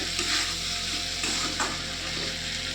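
Chopped tomato stir-fried in a pan for a vegetarian tiffin dish, a steady close sizzle and frying hiss with soft scraping and stirring throughout, no voices.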